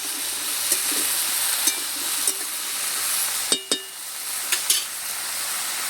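Water lilies and shrimp are stirred with spices in a pan, giving a soft continuous frying hiss with a few light scrapes and taps from the utensil against the pan.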